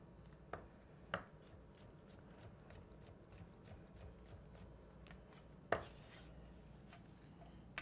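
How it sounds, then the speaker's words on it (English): A knife chops through a seedless hothouse cucumber on a cutting board with a few soft, sparse cuts, one sharper knock near the middle, heard faintly and close in a quiet kitchen. "we're going to quickly chop this up"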